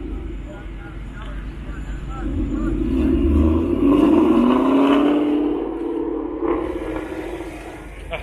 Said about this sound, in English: That's a different exhaust note